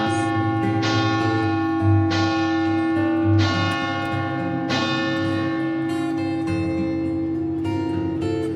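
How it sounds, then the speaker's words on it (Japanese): Church bells ringing in Venice, their repeated strikes sounding loud and sustained, each clang ringing out and overlapping the last over a steady low hum of the setting. "鐘の音が鳴っています。"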